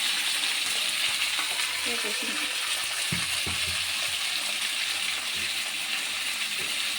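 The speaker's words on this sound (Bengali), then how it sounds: "নুন হলুদ দিয়ে ওটা একটু ঢাকা দিয়ে দিয়ে ভেজে দেবো" Fish frying in a pan with salt and turmeric gives a steady, close sizzle that runs throughout, with a few soft clinks and stirring knocks in the middle.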